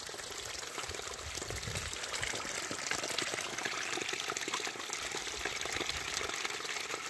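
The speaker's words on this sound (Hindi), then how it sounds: "अंदर से पानी निकल रहा है।" Water flowing out from inside among rocks, a steady faint broadband rush and trickle with no talk over it.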